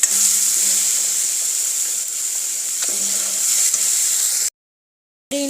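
Ginger garlic paste frying in oil makes a steady, bright hissing sizzle with faint stirring scrapes, cutting to silence for a moment near the end before resuming.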